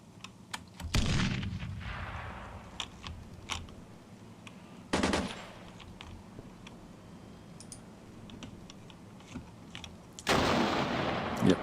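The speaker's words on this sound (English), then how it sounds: "see they're firing their rocket-propelled grenades" Gunfire and rocket-propelled grenade blasts in the war game Armored Brigade 2: three heavy booming bursts, near the start, middle and end, with scattered smaller shots and clicks between them over a low rumbling background.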